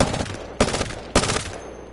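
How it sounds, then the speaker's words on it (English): Prowler five-round burst-fire gun in Apex Legends fires three distinct bursts about half a second apart, each a sharp loud rattle of rapid shots ringing out briefly, with no talk over them. "Prowler. This is the one that was a 5-round burst"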